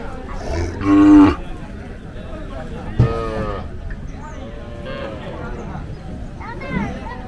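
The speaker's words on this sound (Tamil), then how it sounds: "இங்கே ஒரு செவலை காளை இருக்குதுங்க." A red-brown sevalai bull at a native cattle show in Palayakottai lets out two loud, drawn-out lows close by, with a fainter low later, over a background of crowd chatter and people talking.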